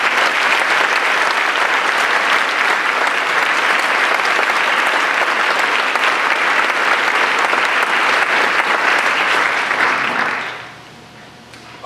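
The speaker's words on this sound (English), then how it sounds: "Let's recognize their enduring legacy with a round of applause." Loud, dense applause fills a college presidential inauguration ceremony at Coe College, holding steady for about ten seconds before quickly dying away.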